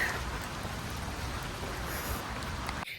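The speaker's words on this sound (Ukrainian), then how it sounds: "Дощик відбувається цілий день." Rain falls steadily throughout, a dense close hiss of drops on surfaces with no voices, cutting off abruptly near the end.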